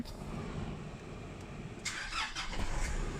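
A Nissan pickup truck engine starts with a push-button start, the low idle rumble joined partway through by a brighter burst of cranking and catching that stays running to the end, close and moderately loud, with no talking.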